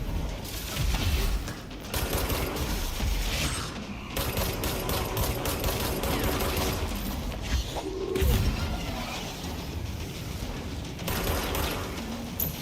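Rapid bursts of video game gunfire keep up a dense, steady roar with clattering mechanical textures, loud and close throughout with no talk over it.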